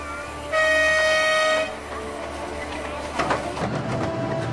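Train running slowly alongside the Sound of Mull in the Scottish Highlands. A horn sounds for about a second, then carriages rumble steadily at a moderate distance with faint rattling.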